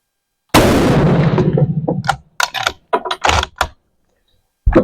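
A No.5 Enfield rifle fires one loud, close gunshot with a long decaying boom, followed by a series of sharp metallic clacks as the bolt is worked, then the start of a second blast.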